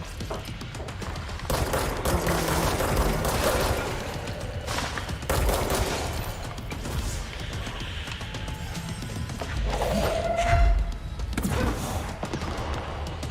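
Gunfire in the video game Control sounds as loud bursts of rapid shots separated by brief lulls, mixed with whooshing effects and impacts.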